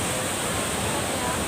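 A waterfall on Camiguin Island, the Philippines: a steady, dense rush of falling water, fairly close and continuous, with no clear voices over it.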